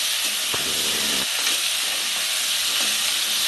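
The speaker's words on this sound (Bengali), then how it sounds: "ভেন্ডিটা আমার একটু বেশ ভালো করে ভাজবো" Okra fries in a pan with onion, tomato and turmeric for Bengali-style bhindi pyaz, a dense, loud, continuous sizzle with faint scraping underneath.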